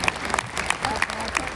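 A crowd at a poetry recital during the Geeta Jayanti gathering in Kurukshetra breaks into brief applause, an uneven patter of claps at moderate loudness lasting under two seconds.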